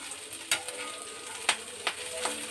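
Ingredients for nalleru stem chutney frying in a pan, garlic among them, giving a steady low sizzle broken by a few sharp scraping stir clicks, close and fairly quiet.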